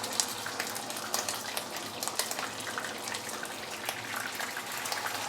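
Hot rice bran oil sizzles steadily in a frying pan, with a dense, close crackle of small spits running throughout at a fairly soft level and no voices.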